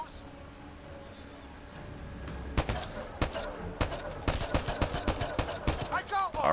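Rapid gunfire in Mass Effect: Andromeda bursts out after a quiet start, a string of sharp loud shots and thuds repeating in quick irregular succession, with a voice talking underneath.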